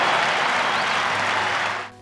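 A cricket crowd at the Oval breaks into loud, sustained applause that fills the space, then tapers off sharply near the end.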